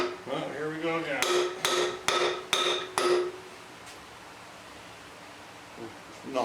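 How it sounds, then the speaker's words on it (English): A hammer strikes a 455 Buick engine cylinder head to loosen it, five or six loud, sharp metallic blows in an irregular rhythm, followed by quieter shuffling and a couple of faint knocks. "Get a bigger hammer."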